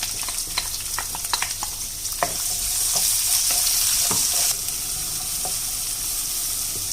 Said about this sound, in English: Now I will add chopped onions.